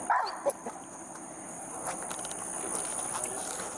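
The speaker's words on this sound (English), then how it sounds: "Hey, them canines some good dogs, bro." Dogs bark and whimper, a few short yips and whines near the start, followed by a steady background hiss with faint scattered sounds.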